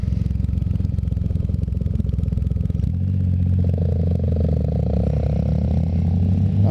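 A Triumph Rocket motorcycle engine and exhaust, a loud, deep bass rumble that idles with a rapid pulsing beat, then settles into a smoother, steadier throb, close by.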